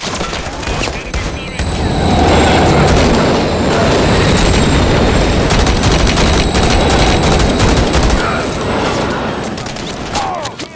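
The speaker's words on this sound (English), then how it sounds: "Crossing, watch the trains." A train thunders past during a Call of Duty MW3 battle, its heavy rolling rumble and wheel noise loud and continuous for several seconds, with bursts of gunfire crackling over it.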